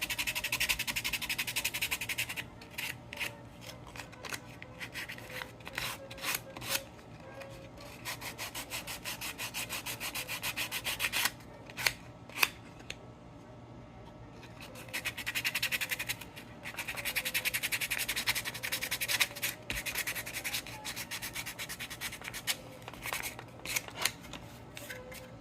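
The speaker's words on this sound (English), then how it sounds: "And then we can come in with the sandpaper." Sandpaper worked by hand over the bodywork of a Land Rover Defender pickup, heard as repeated close scratchy rubbing strokes in uneven bursts with short pauses between them.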